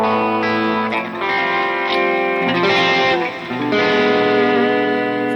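An electric guitar played through the Dripping Wet factory preset on an Axe-Fx Mk1 modeler, with loud sustained chords drenched in chorus, echo and reverb and changing every second or so, with no talk.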